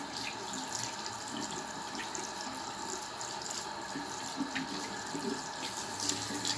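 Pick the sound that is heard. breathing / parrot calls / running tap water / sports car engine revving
running tap water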